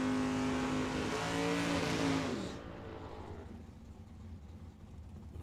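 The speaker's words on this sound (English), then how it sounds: "the Camaro over on the right side" A Camaro drag racing car at Tucson Dragway roars loudly at the start, its tone rising as it pulls away, then the sound drops off sharply, leaving a lower, fainter engine rumble.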